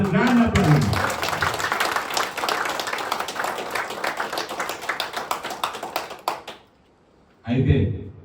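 A seated audience at a real estate seminar breaks into loud, sustained applause for several seconds, fading out before a voice resumes talking.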